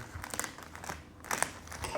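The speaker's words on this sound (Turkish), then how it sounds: "Şöyle ürünlere zarar vermeden açmaya çalışalım. Kargo poşetlerini." A plastic shipping bag crinkles and rustles close up in quick bursts as it is pulled open and handled.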